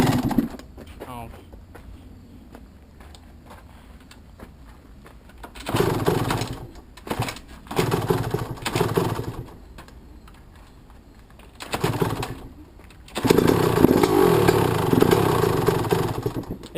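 A freshly rebuilt Yamaha YZ125 two-stroke dirt bike, still carrying excess oil, runs roughly and won't idle, with loud bursts of revving between quieter stretches while people talk nearby.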